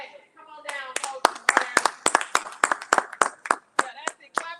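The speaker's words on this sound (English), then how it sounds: "Clap it up for them." A small crowd at an Alabama high school media day claps in uneven, close bursts while someone talks over the clapping.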